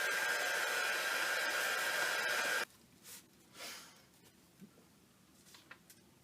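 Hair dryer blowing steadily at close range to dry an inkjet-printed image transfer page, a loud continuous whoosh that cuts off abruptly, followed by a few faint handling sounds.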